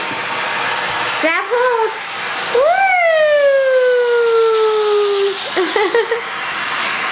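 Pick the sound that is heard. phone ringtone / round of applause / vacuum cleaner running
vacuum cleaner running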